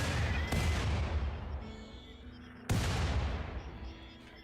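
Turrets firing at enemies in the RimWorld video game, with two loud, sharp broadband blasts rolling into rumbling decay, separated by a quieter stretch of distant shots.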